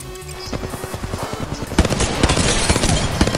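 Rapid automatic gunfire crackles in an Apex Legends firefight, with dense bursts building and growing louder after the first couple of seconds, layered with other game effects.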